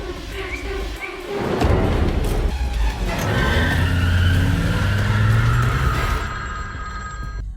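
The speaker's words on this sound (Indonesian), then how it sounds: "Dengan mobil milik Henry, Violet melaju kencang menuju rumah" A car speeds along in a film scene, its engine roaring with a rising whine while tires squeal, loud and continuous after a brief quieter opening, with a voice heard near the start.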